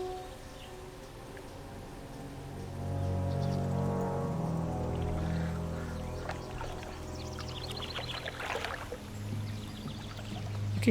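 Ocean water ambience in World of Warcraft Classic: a steady wash of lapping, rushing water swells through the middle and continues on its own without any talk.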